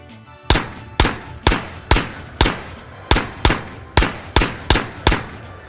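A gun in the video game Ghosts of Tabor fires a dozen loud, sharp shots at a steady, slightly uneven pace. Each crack is followed by a short decaying tail, with no talk over them.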